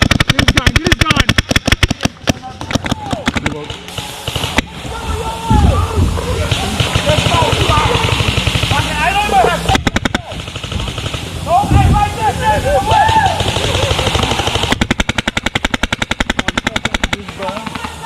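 Rapid airsoft gunfire in a large milsim event, bursts of automatic and single shots crackling close and continuous, with shouting voices over and between the volleys.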